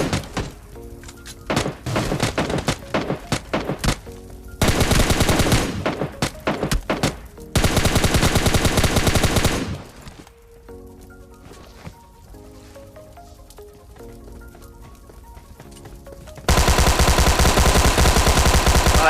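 Gunfire in the PUBG Mobile battle game, rapid automatic bursts in several long loud stretches broken by quieter gaps with softer thuds.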